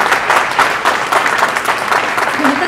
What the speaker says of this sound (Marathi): जोरदार टाळ्या झाल्याच पाहिजे